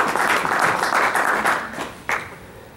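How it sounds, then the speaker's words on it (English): Applause from a forum audience for political candidates, a short burst of clapping from a modest crowd that thins and fades, then a final sharp clap or two at the end. "All right, let's get a round of applause for our candidates"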